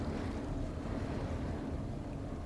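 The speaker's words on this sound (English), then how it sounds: "I don't know if you can hear the gusts of wind." Steady roaring wind on a Scottish island buffets the microphone, a continuous low rumble with gusty texture and no voices.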